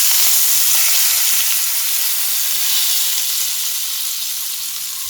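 A loud, dense sizzle as hot tempering hits a soya korma curry, hissing strongly at first and slowly easing off, close by with no talking.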